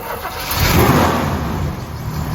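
A 1972 Oldsmobile 442 engine turns over and fires up, its low rumble swelling into a steady, loud idle close by with no talking.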